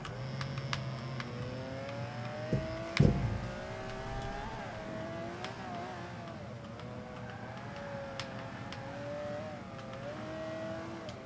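A Ferrari GTO racing in the Forza 5 video game gives a continuous engine drone that rises and falls with shifting revs, with a brief thump near the start as it brakes and corners.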